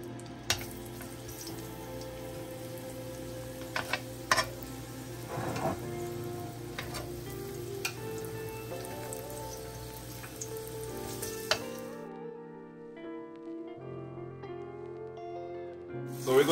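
Shrimp fry in cooking oil with a steady crackling sizzle for about twelve seconds, broken by a few sharp clinks, before the frying cuts out and only quieter background sound remains.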